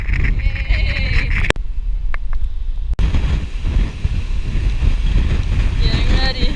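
Strong, gusty wind buffets the microphone outdoors in Patagonia, Argentina, with water and boat sounds beneath, a steady loud roar with brief dropouts and faint voices in the background.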